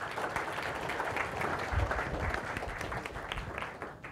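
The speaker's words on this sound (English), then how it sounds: "if everybody can give him a round of applause" A crowd at a mind-reading and magic show in Sheffield applauds a volunteer coming up on stage, a steady wash of clapping held at moderate level throughout.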